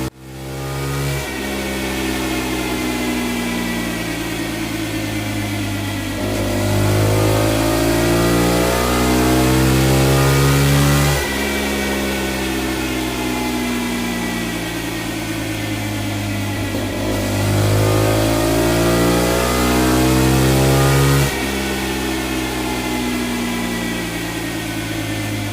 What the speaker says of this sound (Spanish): Vamos a escuchar un poquito el motor durante este minuto escaso que dura el ensayo.